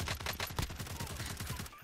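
Automatic gunfire from Call of Duty: Warzone rattles off in a fast, evenly spaced burst of close shots, moderately quiet in the mix.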